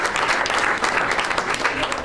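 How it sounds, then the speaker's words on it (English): An audience claps steadily at the opening of the 2000th Chick-fil-A restaurant in Springfield, Illinois, dense close applause filling the whole moment without a break. "Can we give that a round of applause?"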